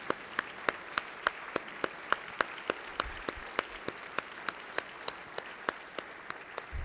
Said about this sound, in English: if I could have all the coaches and all the team to stand for another round of applause from the House of Representatives